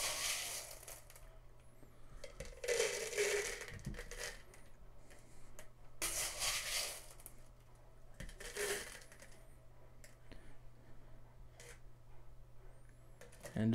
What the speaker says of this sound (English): let's go ahead and put these back in the barrel